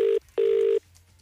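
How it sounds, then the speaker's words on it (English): Touch-tone telephone keypad beeps as a number is dialed, two clear steady tones, the second held longer, close and clean with a short pause between. "let's dial this number, see who's on the phone."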